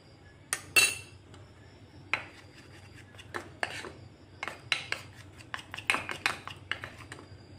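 Sooji poori batter is mixed in a bowl, a spoon scraping and clinking against the sides in irregular strokes that quicken toward the end, close and clear, without talking.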